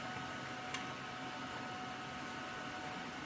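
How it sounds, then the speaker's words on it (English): A steady, broadband arc hiss and buzz of someone welding a nut onto an old lug nut while replacing the front wheel bearing on a 2015 Kia Sportage, continuous and fairly faint with no speech. "I'm gonna go ahead and weld this nut on."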